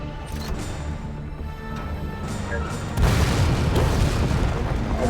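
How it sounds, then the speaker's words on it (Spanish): A dense, continuous rumble of explosions in Resident Evil 2 Remake, a deep booming roar that swells louder and heavier about halfway through and keeps going without a break. "se está escuchando muchas explosiones hacia alrededor"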